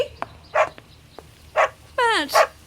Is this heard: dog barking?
yes